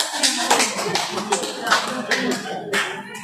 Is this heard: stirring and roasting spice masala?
no